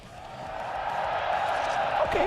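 Crowd at an Evo 2023 Guilty Gear Strive top six tournament roars steadily, a dense wash of cheering and shouting that swells slightly louder over a couple of seconds.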